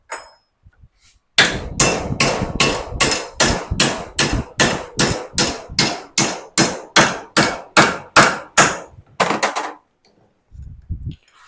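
A welded steel plate, joined with a gasless MIG welder, is bent with a hammer: about eighteen loud, evenly spaced metallic blows ring out close by, with no talk.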